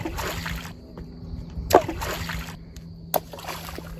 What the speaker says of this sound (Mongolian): гартаа чулуу бариад ус руу шидэж тоглож байлаа